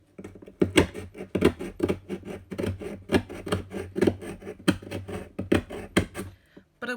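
A hand knife saws along a scored line in wediboard, giving close, rhythmic rasping strokes that repeat steadily, each a gritty scrape with a soft knock.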